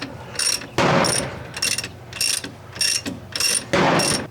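Ratchet wrench tightening a bolt on a Bobcat alternator: repeated loud bursts of rapid pawl clicking, each about half a second, in a steady back-and-forth rhythm close by.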